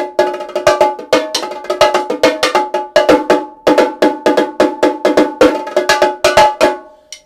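Bright, sharp hits on Remo bongos struck with drumsticks in a quick, busy rhythm, ringing and metallic like timbales, loud and close with no talking.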